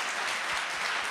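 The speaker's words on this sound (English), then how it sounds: "So give them another round of applause, because that was incredible." Audience applause at an expert speaker talk marking a birthday event, a steady, dense burst of clapping from a crowd filling the whole short moment.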